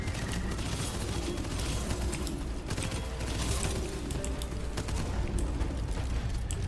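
A gun shooting bullets in the game Abyssus, heard as a dense, steady rattle of rapid shots with mechanical clatter and low rumbling, continuous and fairly loud throughout.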